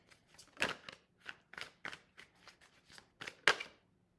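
Tarot cards shuffled for a reading, a series of crisp riffling flicks in an irregular rhythm, close and fairly quiet, with one sharper snap near the end.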